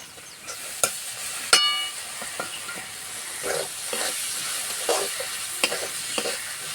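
Mung dal soaked for two hours is stirred with fried spices and oil in a pan, giving close, repeated scraping strokes over a soft continuous sizzle.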